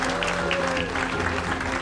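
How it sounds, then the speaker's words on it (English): Theater audience applause at the New London Barn Playhouse, a converted barn theater, before a Jersey Boys matinee; a short, steady burst of clapping with a tonal hum or voice underneath. "We'll take some applause for that."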